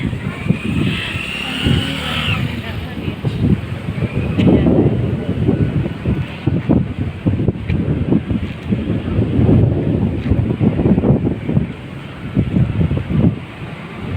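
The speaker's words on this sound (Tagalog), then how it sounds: "Hangin po, grabe." Strong gusts buffet the microphone at a windmill farm with giant turbines in Pililla, Rizal, a steady loud low rumble with surging bursts throughout, faint voices underneath.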